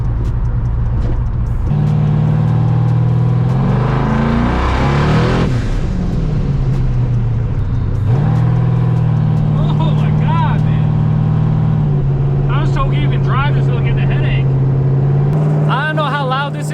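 A car fitted with cheap eBay turbos, smoky inside from oil burning off them, roars loudly from the cabin as it accelerates, its engine note climbing through several gear pulls. A voice talks over the noise.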